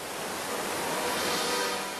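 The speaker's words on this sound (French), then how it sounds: "L'un de vous sait d'où vient ce bruit d'eau qui gronde?" A rumbling cartoon waterfall heard from a rowboat, a continuous broadband rush of falling water, faint and steady with no voices.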